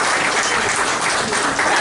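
An audience at a Lions convention applauds in a steady, dense burst of clapping that holds at an even level for its brief duration.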